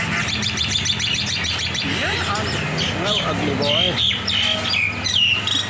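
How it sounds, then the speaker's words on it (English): Bold, aggressive birds in Phuket or Rawai, Thailand, give repeated bright chirps and squawks close by, mixed with warbling calls, while someone talks over them throughout. "These birds are very aggressive and bold."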